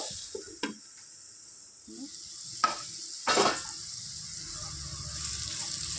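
Ivy gourd curry cooks in a pan with a steady soft sizzle, broken by a few sharp scrapes and clicks of a spoon stirring, one louder scrape near the middle.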